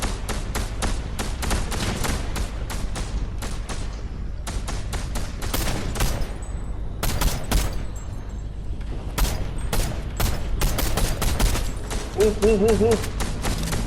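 Dense, continuous gunfire from a Fortnite Halloween match, with rapid overlapping bursts and sharp shots, some close and loud, others farther off, running nearly nonstop with brief thuds, while players talk over it throughout.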